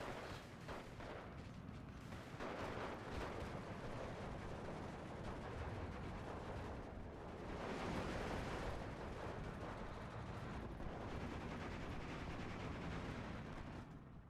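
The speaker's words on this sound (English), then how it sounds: "He did lose this one to another Nebelwerfer strike" A Nebelwerfer rocket artillery strike in Steel Division 2 lands as a dense, rumbling barrage of blasts and crackling gunfire that continues for a long stretch at a fairly low overall level.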